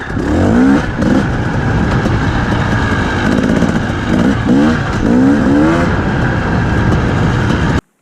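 A modified motorcycle engine with an RK TEK head and a Keihin 38mm carburetor runs loud and close, with a steady throaty idle broken by several sharp revs, then cuts off abruptly.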